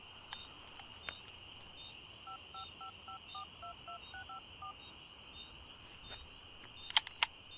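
Telephone keypad tones: a run of about a dozen evenly spaced beeps from dialing a number, with a few clicks and taps around them and some sharper handling noises near the end. The setting is quiet.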